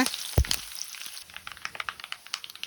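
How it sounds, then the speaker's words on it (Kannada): Curry leaves and dried chillies hit hot oil with a sharp burst of crackle, then settle into a steady light sizzle with scattered pops for tempering puliyogare, close and alone. "ಕರಿಬೇವು ಹಾಕ್ಕೊಂಡು ಫ್ರೈ ಮಾಡ್ಕೊಳ್ಳೋಣ"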